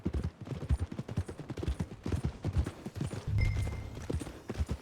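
Hooves clip-clop steadily at a walking pace in Red Dead Redemption 2, a close, even rhythm of dull thuds on a dirt path with a brief low rumble partway through.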